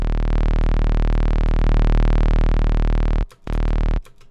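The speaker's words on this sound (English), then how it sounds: "we're mixing a sine and a saw. So we have that, and then I put on some distortion." A buzzing synth tone built from a mixed sine and saw wave, pushed through heavy distortion, holds as a dense, harmonically rich drone, then cuts out briefly, returns for a moment and drops away near the end.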